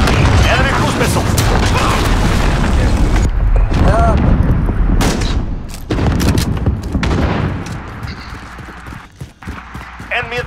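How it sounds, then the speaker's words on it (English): Cruise missile explosions rumble through a Domination match of Call of Duty: Modern Warfare (2019) on the Grazna Raid map, a loud, dense wall of booms and gunfire under in-game voice callouts. "Enemy cruise missile."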